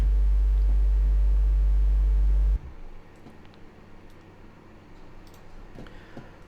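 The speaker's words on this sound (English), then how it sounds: "you've got the sine wave for the club as well." A loud, steady low sine wave tone of the kind used on club sound systems holds for about two and a half seconds, then cuts off abruptly, leaving faint background noise.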